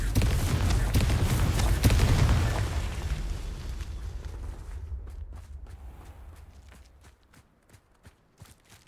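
A Confringo spell explodes in Hogwarts Legacy with a loud, close roaring blast that swells, then fades into a long rumbling tail, followed by scattered light steps and small pops in quiet.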